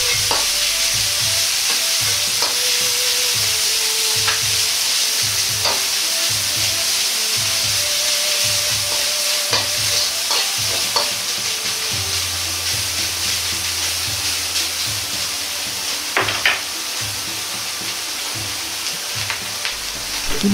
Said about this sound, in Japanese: ひき肉をお玉の裏で潰しながら広げ炒めます。